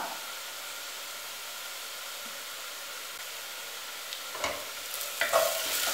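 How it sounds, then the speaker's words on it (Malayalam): Crab roast masala with chili powder, ground pepper, garam masala and salt is sautéed and stirred in a pan, giving a faint, steady sizzle with a few sharper scraping stirs near the end. "ഇത് പച്ചമണം മാറുന്നത് വരെ വഴറ്റാം."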